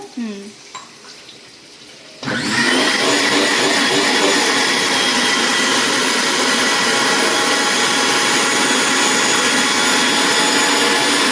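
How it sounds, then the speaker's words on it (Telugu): A mixer grinder blends ginger and garlic with a little water into paste, starting abruptly after a quiet moment and then roaring loudly and steadily to the end, with a voice speaking briefly before it begins. "అల్లం వెల్లుల్లి కొంచెం వేసి కొంచెం వాటర్ వేసి పేస్ట్ లాగా చేసుకోవాలి."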